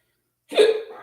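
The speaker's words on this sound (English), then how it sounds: "You gotta get rid of these hiccups." A single sharp hiccup bursts out after a stretch of silence and trails off into a short breathy tail, close and fairly loud.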